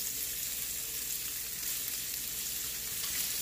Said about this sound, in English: I'm gonna let this fry.